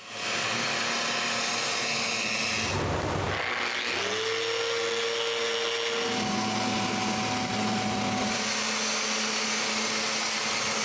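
A power sander works over wooden patio benches, whirring loudly and continuously with its pitch rising and dipping as it moves across the wood, briefly dropping off near the middle before running on.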